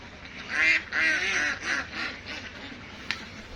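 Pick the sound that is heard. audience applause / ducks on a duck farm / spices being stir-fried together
ducks on a duck farm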